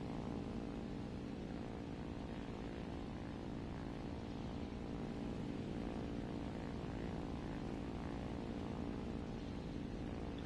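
Propeller airplane engine drones steadily as it climbs during a video game dogfight, a continuous even hum lasting about ten seconds with no talk.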